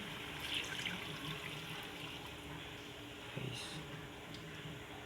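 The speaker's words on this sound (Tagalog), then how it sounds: "Lalagyan na natin ng tubig." Water pours into a pan of chicken liver and gizzard adobo, a faint, steady splashing trickle with a small splash near the middle, close and quiet.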